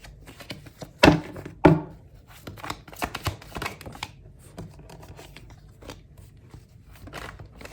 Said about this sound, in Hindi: थोड़ा और निकालते हैं यहाँ पे कार्ड्स।